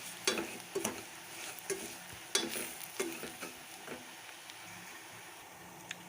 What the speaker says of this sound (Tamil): இந்த நொய் ஏற்கனவே நான் வறுத்துட்டேன், இருந்தாலும் இந்த எண்ணெயில் வருங்க இன்னும் நல்லாயிருக்கும்.